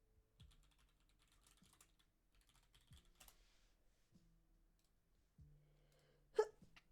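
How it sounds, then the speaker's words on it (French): A single sharp sneeze bursts out near the end, close and loud, after several seconds of quiet computer keyboard typing and clicking during a Minecraft session. "Pardon, j'éternue."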